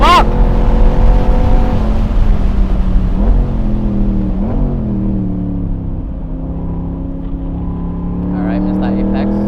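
A Corvette C8 mid-engine car at full throttle on a racetrack, its engine droning loud and close with pitch sweeping up through gear pulls and dipping at shifts, someone talking over it.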